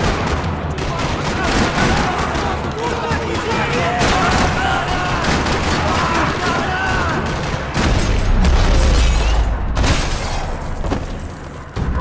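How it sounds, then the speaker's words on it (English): Sustained gunfire rattles through a parking lot in the video game Max Payne 3, rapid overlapping shots and automatic bursts with booming impacts, continuing for several seconds. "Another parking lot rattling with gunfire."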